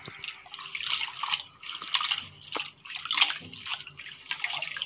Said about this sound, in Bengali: মামু শাকগুলো ভালোভাবে ধুয়ে নিচ্ছে।